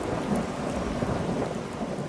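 Steady heavy rain hisses over the Amazon rainforest with a low rumble of thunder rolling underneath, a dense unbroken wash of sound with no voices.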